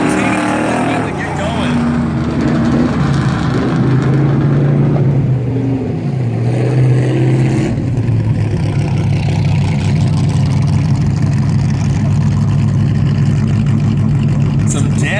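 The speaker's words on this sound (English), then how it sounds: "Will Hutt be able to start it up and turn it on?" Modified-class race car engines at Valley Raceway during a caution period in a feature race; a steady, rumbling engine drone sits under continuous announcer commentary throughout.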